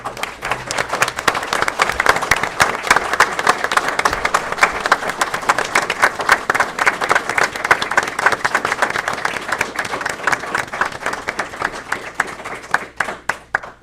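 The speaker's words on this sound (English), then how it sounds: "we'd like to acknowledge you and give you guys a nice round of applause" At a village board meeting, people applaud to acknowledge standing guests: a sustained round of clapping from a modest crowd, fairly close and distinct, thinning out toward the end over roughly fourteen seconds.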